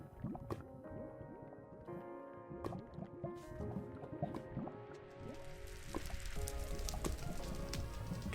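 Steady rainfall in Minecraft, a soft continuous patter with scattered drop-like ticks that thickens and grows louder over the last few seconds, heard alone with no talk.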